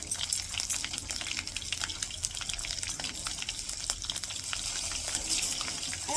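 Green chilies and panch phoron spices fry in very hot mustard oil, a soft but busy sizzle with frequent sharp popping crackles throughout, heard without talk.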